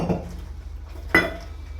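Household dishes and pots handled in a home kitchen, a single bright clink of metal or crockery after a stretch of quiet low room noise, close and brief.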